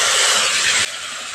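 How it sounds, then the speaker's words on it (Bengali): Tomato paste hits hot oil with frying ginger and garlic, setting off a loud, close, hissing sizzle that cuts down sharply to a quieter simmer partway through. "টমেটো পেস্টটা দিয়ে দিচ্ছি।"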